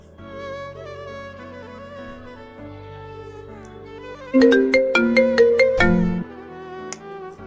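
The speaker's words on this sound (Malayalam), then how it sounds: "ഒരാവശ്യത്തിന് വിളിച്ചാൽ ഇങ്ങനെ ഫോൺ എടുക്കില്ല" A mobile phone rings unanswered: a soft melodic ringtone plays, then a louder run of bright, chiming notes that stops abruptly.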